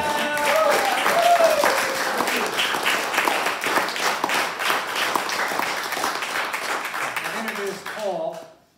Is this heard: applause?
yes